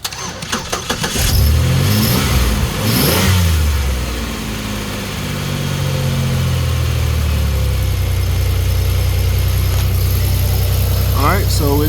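A car engine cranks and fires on the first try after a boost from a Dewalt 2000 amp jump starter, revs briefly, then settles into a steady loud idle.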